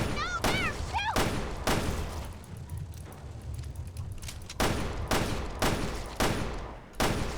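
Repeated bursts of gunfire in Resident Evil Revelations 2, loud broadband shots clustered at the start and again near the end with a rumbling lull between, while a voice shouts briefly over the opening shots.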